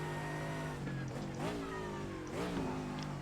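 A GT3 race car engine in the iRacing sim holds a steady buzzing drone on the pit limiter, with a couple of brief pitch bends, fairly quiet and without speech.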